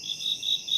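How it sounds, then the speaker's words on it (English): Crickets chirp in short, evenly spaced pulses, a thin high trill repeating four times, alone over a faint quiet background. "Crickets."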